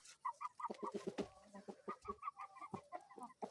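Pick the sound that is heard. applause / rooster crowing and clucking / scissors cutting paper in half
rooster crowing and clucking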